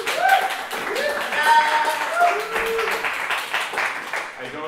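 Conference audience at GUADEC 2018 clapping after a JavaScript in GNOME talk, a dense continuous patter of many hands with scattered voices, moderately loud and sustained throughout.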